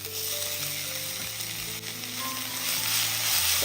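Drumstick pulp with green chilli fries and is stirred in a pan, making a steady close sizzle with a faint tonal hum underneath and occasional soft scrapes. No voices are heard.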